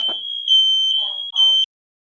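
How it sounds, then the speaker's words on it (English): A piercing, steady electronic alarm tone sounds loudly, pausing briefly before blaring again and cutting off abruptly, with a few words of speech mixed in at the start and between the tones. "Fucking alarm."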